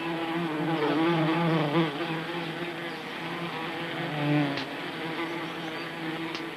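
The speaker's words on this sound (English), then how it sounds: "On the face of the swarm, the bees are comparing notes on their surroundings before deciding where to go" A swarm of honeybees hums steadily, close and loud, in a thick continuous buzz that swells and eases slightly throughout.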